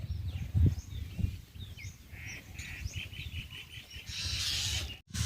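Bulbuls and mynas call repeatedly at a farm field, their chirps and whistles layered over a steady outdoor rumble and wind, moderately near and fairly continuous.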